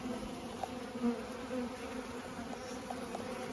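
Honeybees robbing and fighting around a hive make a dense, steady swarm buzz, close and continuous, with small swells in intensity.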